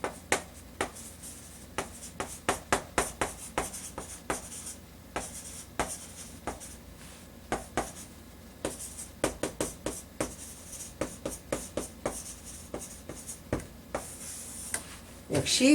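A pen writes a sentence by hand on paper, giving a run of close, crisp scratching strokes and taps in an irregular rhythm, quiet and alone for about sixteen seconds.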